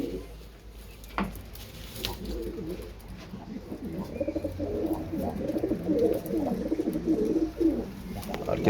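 Several birds in a coop coo in low, overlapping calls, growing busier toward the end, with scattered taps and rustling nearby.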